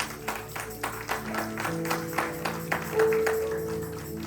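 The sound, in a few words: applause in church service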